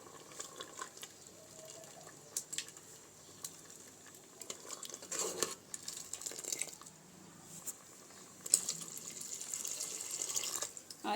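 Water is poured into boiled lentils in a pot, heard as a quiet, intermittent splashing and trickling with occasional drips and clinks, close by and faint.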